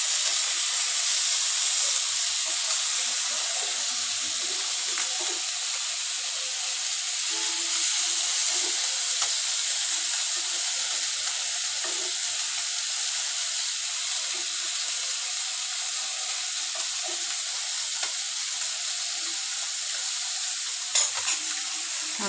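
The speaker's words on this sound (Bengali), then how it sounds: "মশলাটা এভাবে কষাই নিছি" Spice paste sizzling and hissing steadily in hot oil in a pan while being fried and stirred, a continuous loud frying sound with faint scraping and no talk.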